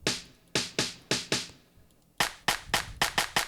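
Snare drum sample fired through Trigger2 drum replacement in a drum loop: sharp, dry cracks in a quick rhythmic pattern, a first run of hits, a brief pause, then a faster cluster, close and punchy.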